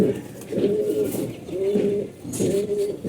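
Racing pigeons coo close by in three soft, throaty, rhythmic phrases, one after another.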